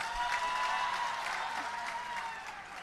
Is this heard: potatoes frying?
no